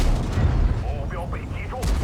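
Heavy tank cannon fire in World of Tanks: deep booming blasts at the start and end with rumbling between, while someone talks over the action.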